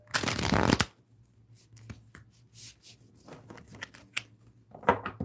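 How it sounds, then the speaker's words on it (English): A deck of tarot cards is riffled in a quick loud burst, followed by softer scattered taps, slides and shuffles of cards being handled nearby, with no talking. "I'm just shuffling these cards here"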